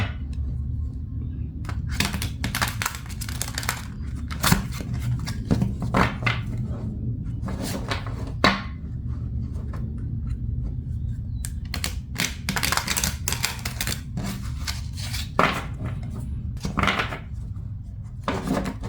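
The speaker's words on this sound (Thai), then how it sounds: "เดี๋ยวขอตัดไพ่หน่อยดีกว่า" Tarot cards are cut and shuffled up close, with repeated crisp bursts of riffling and snapping over a low steady background hum.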